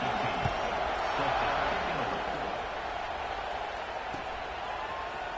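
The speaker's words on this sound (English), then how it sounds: "this crowd is buzzing after that last score" Football stadium crowd at a UCLA vs Penn State game, a broad steady roar and buzz of thousands of fans after a score, continuous and fairly even throughout with no clear talk over it.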